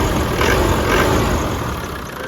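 A 1998 Land Rover Defender 90 with the 300Tdi diesel engine and 115,000 miles idles steadily and smoothly, a loud, close, even rumble with no speech.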